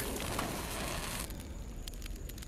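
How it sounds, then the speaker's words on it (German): In the video game S.T.A.L.K.E.R.: GAMMA, a dense, steady roar of crackling fire close by drops off sharply halfway, leaving faint scattered pops and a thin background hiss. "Hier ist aber auch ein Feuer"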